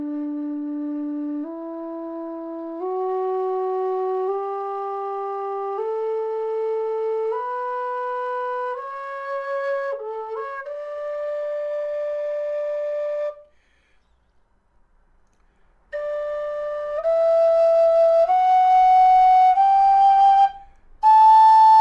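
A low D tenor tin whistle by Kerry plays a rising scale of clear, steady sustained notes one after another, each step higher, with a short pause before a few more high notes; no talk.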